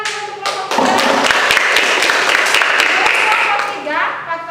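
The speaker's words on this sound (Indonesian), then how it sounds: "tepuk tangan dulu untuk kelompok 3" Students in a classroom clapping for a presenting group during a lesson on social mobility, many hands clapping loudly and steadily for about three seconds, with speech audible just before and after the applause.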